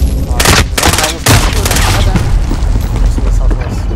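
Gunfire in the video game Call of Duty Modern Warfare: loud, dense bursts of shots and booming impacts crowd the whole stretch, with a voice speaking over the firing.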